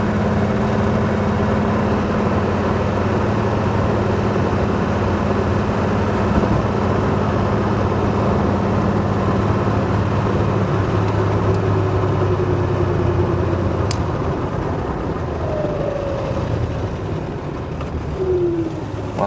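A Triumph GT6 MKIII classic car's engine drones steadily while driving, a low, even hum with a faint rising whine near the end and no talking.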